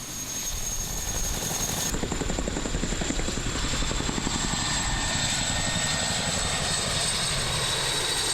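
A Chinook helicopter drones steadily with a rhythmic rotor thump and engine whine, loud and continuous throughout with no talk.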